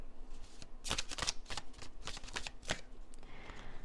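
Tarot cards being shuffled and drawn for a pick-a-card reading, a few quick, crisp riffling bursts close to the mic over a soft background, with no talk.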